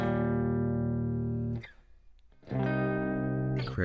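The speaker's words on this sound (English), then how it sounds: "you're playing a detuned guitar like this in C standard" A heavy, distorted, detuned electric guitar rings out a low sustained chord with omitted notes, pauses briefly, then strikes again with a thick, buzzing tone.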